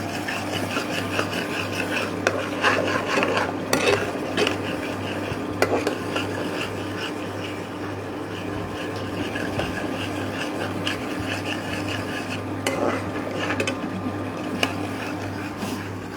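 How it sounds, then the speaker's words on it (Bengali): Gravy of onion paste, cashew and paneer paste with salt and honey being stirred and sautéed in a pan: a steady bed of sizzling and scraping with scattered utensil clinks over a constant low hum, no talking. "এই গ্রেভিটা এবার ভালো করে কষাচ্ছি"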